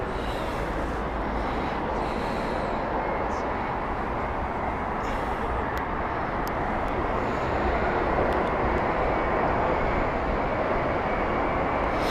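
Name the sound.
Virgin Atlantic Boeing 787-9 aircraft at Heathrow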